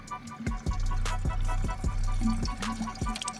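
Electric water pump on a BMW 335i with the N54 engine, running during coolant bleeding, gives a steady low hum with repeated gurgling, knocking pulses of coolant moving through the system, heard close up.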